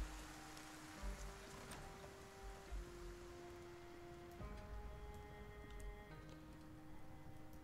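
Quiet, steady patter of rain falling in the video game Project Zomboid, a soft constant hiss with light ticks beneath sustained musical tones, no talking.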